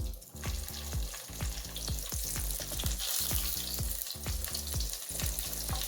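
Cumin seeds, two dried red chilies and chopped garlic sizzle in hot oil for a dal palak tadka, a steady close crackling fry with a continuous hiss and repeated sharp spoon taps and scrapes against the pan throughout.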